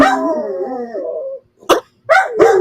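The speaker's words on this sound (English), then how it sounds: "You don't even know what you're barking at, buddy." A dog lets out a long, loud wavering howl that fades, then follows with a few sharp, close barks after a short pause.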